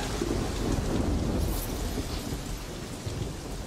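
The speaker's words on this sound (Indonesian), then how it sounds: "Ni main scene dalam hujan kalau yang originalnya." Heavy rain pours steadily throughout a movie scene in a stage parody, with rolling thunder rumbling underneath. The storm stays loud and continuous, and no one speaks.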